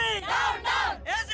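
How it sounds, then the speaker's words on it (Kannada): A crowd of protesters chants a slogan in loud, rhythmic bursts of massed voices close by, with three shouted phrases in quick succession. "ಜನಗಳೆಲ್ಲ ವರದನಾಯಕನಿಗೆ ಡೌನ್ ಡೌನ್ ಅಂತ ಕೂಕೊಂಡು ಬರ್ತಾ ಇದ್ದಾರೆ"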